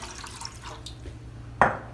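Half a cup of plain water poured into white distilled vinegar for a bread and butter pickle brine: a short, fairly close splash near the end of the clip, over a low steady kitchen hum, with no talking.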